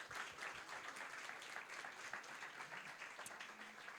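Audience applause at a health-and-society talk in Montreal, a steady wash of clapping from a seated crowd, quiet and even throughout with no voices over it.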